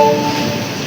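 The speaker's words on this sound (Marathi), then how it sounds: "मग आम्ही इकडं आलो आणि लगेच ही ट्रेन आली." Train arriving at a railway station: a loud, steady rumbling wash of wheels and carriages close by, with a faint tonal squeal at the start, lasting under a second.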